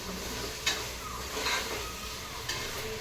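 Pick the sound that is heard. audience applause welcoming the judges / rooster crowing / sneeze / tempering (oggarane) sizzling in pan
tempering (oggarane) sizzling in pan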